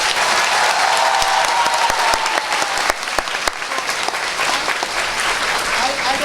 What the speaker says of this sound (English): Please welcome with a loud round of applause